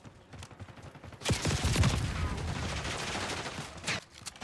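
Bursts of AK rifle fire in a Black Ops 6 Hardpoint multiplayer match, loud rapid automatic volleys starting sharply after a quiet opening and continuing with overlapping shots and sharp cracks to the end.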